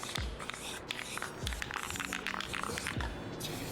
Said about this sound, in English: I'm about to spray paint these candles black